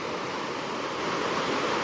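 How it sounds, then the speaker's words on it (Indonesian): Swift, swollen river rushing in the rain at a historic Diponegoro camp site, a dense, loud, continuous roar of churning water close by, steady throughout with no voices. "suasana hujan, sungai deras seperti ini"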